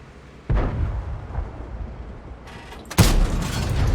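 Heavy cannon shots from tanks in a city battle in the video game Char Futur 4: two sharp booming blasts about two and a half seconds apart, the second louder and closer, over a low rumbling background.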